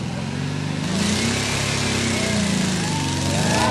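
A car with a loose front shock and battered suspension revs its engine hard while straining over a hump at a Concours d'Lemons California 2021 show, a loud, continuous, rising and falling engine drone.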